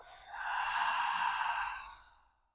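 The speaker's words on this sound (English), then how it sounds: "Out through the mouth." One long, breathy exhale out through the mouth during a gentle chair yoga breathing exercise, rising quickly, holding steady, then fading away, close and alone.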